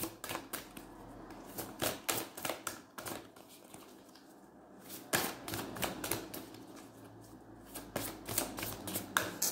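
Oracle cards, a mirror oracle deck and a small light oracle deck, shuffled by hand in a quiet room, giving repeated crisp riffling bursts with brief pauses between them.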